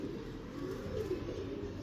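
A female pigeon coos softly and low, a faint, continuous murmur close by with no voices over it.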